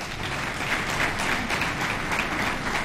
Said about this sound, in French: qui mérite des applaudissements.